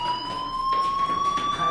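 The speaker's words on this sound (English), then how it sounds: "Hey, do you hear that fire alarm?" A steady electronic fire alarm tone in the video game Life is Strange, a continuous high pitched siren-like ring that holds level throughout, loud and alone with no talk.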